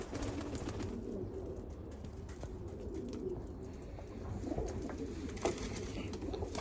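Giant keş pigeons, parents with their young, coo softly in a pigeon farm loft, a low continuous murmur of throaty cooing that is faint and steady, with no talk.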